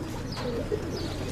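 Greek Wuta pigeons cooing in a loft, soft low throaty coos repeating close by over a faint background hum.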